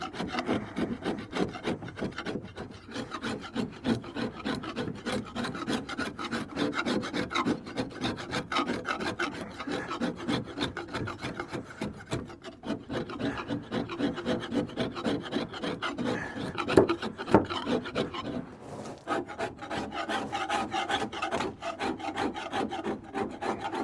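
Bark and yellow sapwood are scraped off a young hackberry stave for a self bow, giving a continuous rhythmic rasping of rapid, evenly repeated strokes. The sound is close and steady, with only brief breaks throughout.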